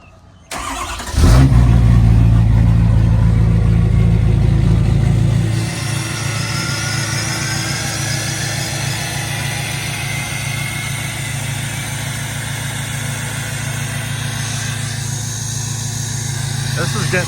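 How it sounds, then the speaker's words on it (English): A Ford Power Stroke diesel cold-starts after a short crank, bursting into a loud roar that settles after a few seconds into a steady clattering idle that keeps running nearby. "get a little cold start on the power stroke real quick"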